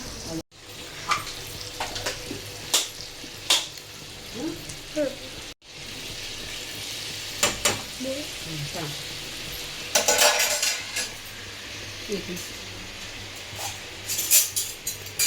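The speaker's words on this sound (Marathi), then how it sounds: "इकडून बटर टाकलं छान असं होऊ देते थोडंसं गरम" Oil and butter heat and sizzle in a pan, giving a close, steady crackle with intermittent clinks and scrapes of a spoon against the pan and a couple of brief gaps, no voices.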